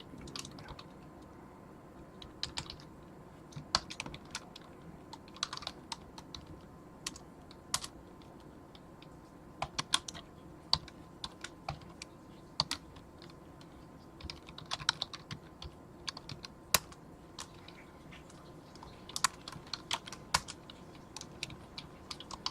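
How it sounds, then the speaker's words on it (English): Someone types steadily on a computer keyboard while editing configuration files, producing close, irregular bursts of crisp key clicks with short pauses throughout; no one talks. "I have no idea what I'm typing here."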